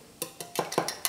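Eggs with a pinch of salt are beaten in a bowl for carrot shiri-shiri, about half a dozen quick, close clicks of utensil against bowl in a fast rhythm.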